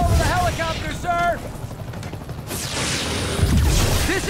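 A helicopter in the Spider-Man PS4 video game thrums and roars under combat noise, with crashes and a rushing whoosh midway, while characters talk over it.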